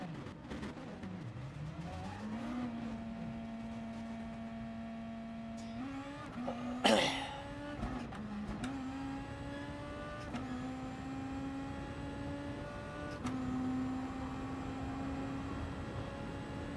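Porsche Cayman GT4 race car in Gran Turismo Sport, its engine droning steadily and rising in pitch through gear changes, with a sharp brief burst midway, loud and continuous without talk.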